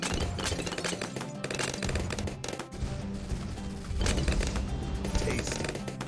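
Dense, continuous popping and bursting from bombs and heavy bombs bursting balloons in a Bloons tower defense game, a busy crackling barrage running loud throughout with steady low thumps.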